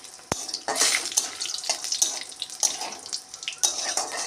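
Cumin, bay leaf and dried red chilli tempering in hot oil for a moong dal and taro leaf dish, a steady sizzle with scattered pops and clinks of stirring, fairly close.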